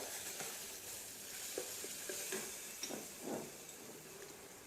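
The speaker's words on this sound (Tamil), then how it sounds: "அதாவது தக்காளி நல்லா மசிற அளவுக்கு வதக்கணும்" Tomatoes sizzle and fry in a pan while mutton keema with chana dal is being cooked, with a steady soft hiss and a few faint stirring clicks. The sound is quiet and comes with no talking.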